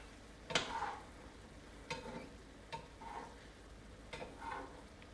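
A utensil scrapes browned ground meat and onions around a sizzling pan while making lasagna, with four or five distinct scraping strokes over steady frying.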